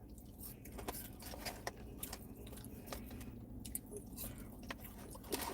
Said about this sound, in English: I'm at McDonald's tearing up these French fries